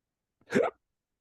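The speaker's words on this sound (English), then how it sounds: "sorry, hiccups" A single sharp hiccup, close and fairly loud, lasting a fraction of a second with silence around it.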